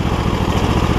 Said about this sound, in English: But it's a garden tractor.